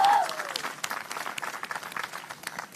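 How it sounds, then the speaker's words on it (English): An outdoor audience at a botanic gardens anniversary celebration applauds, steady crowd clapping throughout at moderate volume, with a brief cheer or whistle at the start. "Can you give a big round of applause?"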